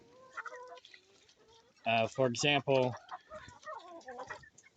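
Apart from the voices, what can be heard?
chickens clucking in a chicken coop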